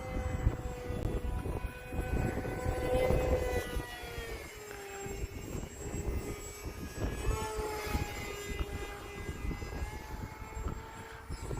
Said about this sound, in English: kept the throttle in it the whole time.